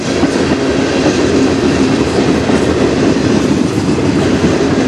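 A CN freight train pulled by four locomotives rolls past in Sarnia, Ontario, a loud continuous rumble of wheels and cars on the rail, close by with no voices.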